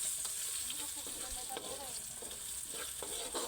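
Ararawan (mole crickets) frying crispy in a pan, a steady close sizzle with scattered pops and crackles, continuous and fairly quiet throughout.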